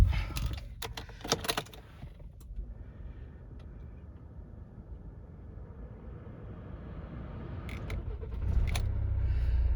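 A car starting after a breakdown scare: keys jangle and rattle in the ignition with creaks, a quiet pause, then the engine cranks and catches into a steady running rumble, close by with no talk.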